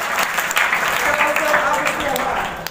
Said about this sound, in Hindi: जयपाल सर के लिए तालियां